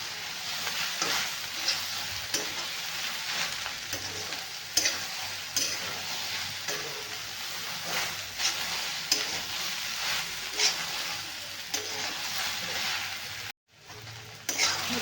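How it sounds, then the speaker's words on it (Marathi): Okra being stir-fried in a dry pan with garlic, a steady close crackling sizzle with repeated scraping stirs throughout, briefly cutting out near the end. "हे अशी हलवून हलवून आपल्याला एकदम भिंडी छान अशी कोरडी करून घ्यायची आहे"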